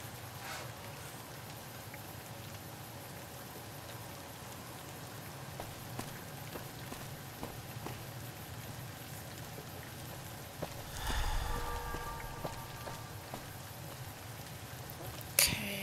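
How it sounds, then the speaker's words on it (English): Steady rain falls in the Fallout: New Vegas video game, a constant soft hiss with scattered drop ticks, briefly louder near the end. "But this rain feels really warm."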